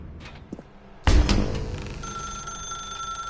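A telephone rings in The Stanley Parable game, a ringing burst beginning about a second in, loud and close, with a bright sustained tone trailing after it.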